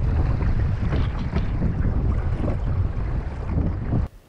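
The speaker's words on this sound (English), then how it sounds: "Starting to get windy, so we're gonna head back in" Wind buffets a small boat out on the water after a halibut fishing trip, a loud, constant roaring rush against the microphone that cuts off sharply near the end.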